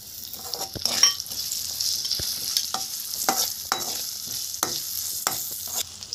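Chili and garlic being mixed in hot oil for pickle, a bright steady sizzle with scattered clinks and scrapes of a spoon against the pan, close up.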